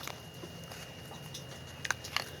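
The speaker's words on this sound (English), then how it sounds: "So we got a little rain going on around us." Light rain falling outdoors, a soft steady patter as a faint hiss of background texture, with a couple of brief small ticks near the end and no talking.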